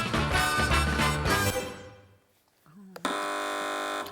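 A quiz show buzzer cuts in sharply after a burst of music fades, holding a loud, steady electronic tone to the end.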